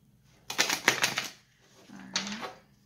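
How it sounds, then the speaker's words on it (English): Two quick riffling bursts of tarot cards being shuffled close by, a short rapid flutter followed by a second softer one after a pause. "Shuffle maybe one or two more times."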